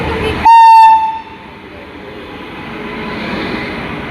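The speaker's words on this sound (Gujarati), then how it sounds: "હવે ટ્રેન આપણે છે ને હાલતી થઈ ગઈ છે" A train at the start of a journey home sounds a loud, steady horn blast of about half a second, then settles into a continuous low rumble of the moving carriages.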